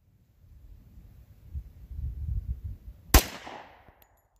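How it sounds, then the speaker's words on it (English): .45 handgun fired at a range, one sharp, loud report after a low rumbling background, then a short ringing tail. "Whenever I shoot another 45, I'm like, huh. Some recoil to it."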